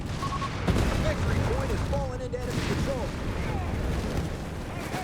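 Battle noise from Company of Heroes 3 in a multiplayer match, with a continuous rumble of gunfire and distant explosions under a commentator's voice.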